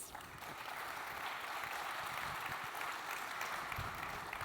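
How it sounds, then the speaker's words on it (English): Audience clapping for a panel at the ICA Dubai 2025 keynote, a soft, steady wash of many hands held at a distance, continuous throughout with no clear voices. "give a round of applause to the panel"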